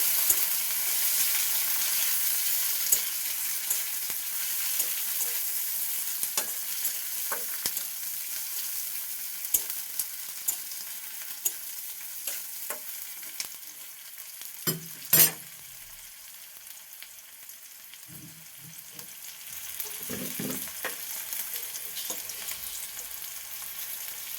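Cucumber dish with onion frying in a pan as it is stirred, a soft continuous sizzle broken by scattered scrapes and clinks of the spoon, close and fairly quiet.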